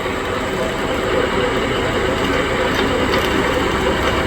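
A steady, rumbling engine drones continuously at close range, a heavy tractor running a 12-foot batwing mower under load, cutting weeds, with no pauses.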